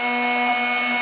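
A steady, high-pitched whine of a Drill Doctor drill bit sharpener grinding a drill bit, constant and close with no pauses.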